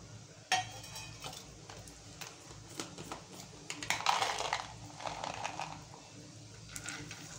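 Cashews stirred in hot ghee in a pan: a metal spoon clinks and scrapes, then a soft sizzle swells midway and lingers, close and fairly quiet with no talking.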